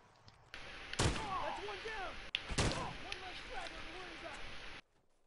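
Two sharp, loud rifle shots from a hunting rifle in The Last of Us crack about a second and a half apart over a busy game soundscape with chirping bird-like calls and background noise.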